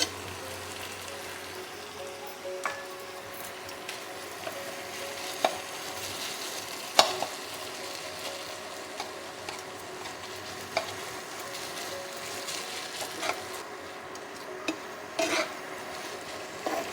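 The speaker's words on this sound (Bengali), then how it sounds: "ছানাগুলো দিয়ে আমি ভালো করে একটু কষিয়ে নেব" Chhana (paneer) sautéing in a pan, a continuous soft sizzle with scattered stirring clicks and scrapes, close and fairly quiet.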